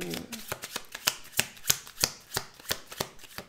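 Playing cards for a love-themed fortune-telling reading are laid down one after another, about a dozen crisp, close card snaps in a steady, even rhythm.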